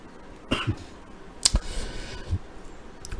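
A man coughs into a microphone: a few sharp, close throat bursts and clicks scattered across a quiet room background, with no speech over them.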